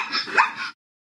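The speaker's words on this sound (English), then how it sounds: "Zebra." A zebra's call from a children's science game: a single short, harsh, barking yelp lasting under a second, loud and close, followed by silence.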